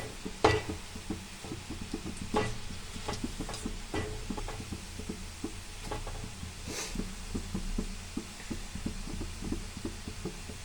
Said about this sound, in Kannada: ಇವಾಗ ಒಂದು ಸೈಡು ಫ್ರೈ ಆಗಿದೆ ಪಕೋಡ ಮತ್ತೆ ಇನ್ನೊಂದು ಸೈಡು ನಾನು ತಿರುಗಿಸಾಕೊಂಡು ಫ್ರೈ ಮಾಡ್ಕೊತಾ ಇದ್ದೀನಿ